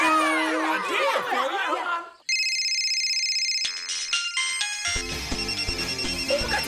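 A mobile phone ringtone rings out in a bright repeating tonal melody, following a burst of noisy shouting, and keeps playing loud and steady to the end.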